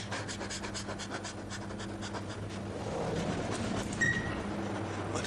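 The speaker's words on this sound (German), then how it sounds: "Hecheln bitte. Hecheln." A woman pants rhythmically while in labour during childbirth, with quick repeated breaths that run steadily and close over a low hum in a hospital delivery room, and a brief clatter comes near the end.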